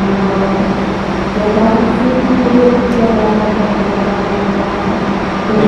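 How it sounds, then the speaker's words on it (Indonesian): Pasundan passenger train standing at Madiun station platform, a steady low rumble of idling locomotive and station ambience with faint voices in the background throughout. "Ini kereta api Pasundan."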